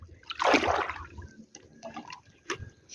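A splash of water thrown out on a beach at high tide, a loud burst of pouring that trails off into drips and trickles, followed by a few small knocks and splashes.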